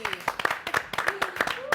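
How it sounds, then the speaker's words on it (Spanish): A studio audience on a Montevideo interview program claps to welcome a guest, a quick patter of hand claps with voices talking over it. "Y lo recibimos con un aplauso."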